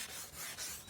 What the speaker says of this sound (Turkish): 20 dakika boyunca 400 zımparayla zımparalama işlemini yapıyorum